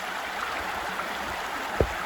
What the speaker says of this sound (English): listening to the sounds of the water